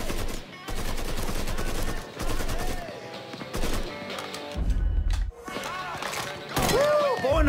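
Repeated gunfire from the video game Mafia 3, several bursts of shots over a few seconds mixed with game sound effects and music, with no one talking.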